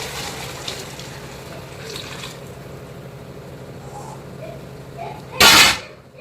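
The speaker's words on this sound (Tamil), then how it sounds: "இப்போ நம்ம வந்துட்டு ஏற்கனவே சூடு பண்ணி வச்சுருந்த அளவு தண்ணி ஊற்றிக்கலாம்" Preheated water is poured into a cooking pot of chicken biryani, making a short, loud gushing splash near the end after a quiet stretch of low kitchen hum.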